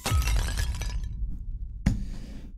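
A ceramic figurine shatters in the horror video game Evil Nun: The Broken Mask, a loud, bright crash with scattering fragments that tapers off within a second, followed by a second sharper impact and faint lingering debris.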